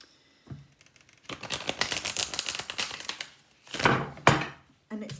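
Tarot cards are shuffled by hand in quick papery bursts of riffling and tapping, with short pauses between flurries, close and fairly quiet.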